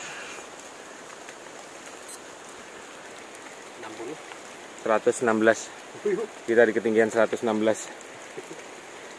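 Rain falls steadily on a mountain, a constant hiss of drops across the whole stretch, while people talk close by in the middle and later part.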